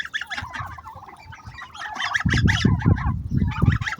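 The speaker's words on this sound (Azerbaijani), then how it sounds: "Qazlar da həmçinin 5 dənə bala qazdır, anadan seçilir." Young geese and turkeys penned for sale, with geese honking and cackling loudly and continuously at close range, the noise growing busier and louder partway through.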